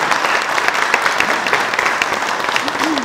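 Steady audience applause fills a meeting room after a guest speaker's talk, dense and continuous clapping with a brief voice surfacing near the end.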